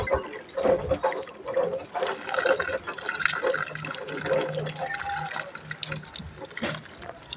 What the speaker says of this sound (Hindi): और चापाकल भी चला